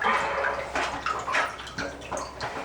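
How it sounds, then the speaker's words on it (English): A wet cloth diaper is squeezed out by hand, sending water splashing and dribbling in a close, continuous patter. "squeeze all that water out"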